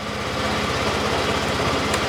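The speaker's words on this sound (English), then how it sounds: "it's a 125 scooter. I would say the Peugeot is a tiny bit quieter." A 2022 Peugeot Tweet 125 scooter engine idles close by with a steady, rapid, even putter throughout and no talking.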